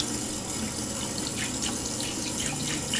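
Running tap water pours steadily from a faucet onto a burned hand, a close, loud, continuous splashing rush with brief dripping accents and no talk over it.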